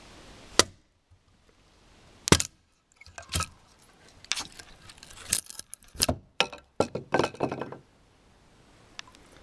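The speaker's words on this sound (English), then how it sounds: "4-pound hand splitting wedge, and use this for cutting kindling out of your split pieces" A 4-pound hand splitting wedge chopping kindling from split firewood: a series of sharp, crisp wooden strikes, loud and close, spaced irregularly at first and then coming in a quicker cluster before a quiet pause.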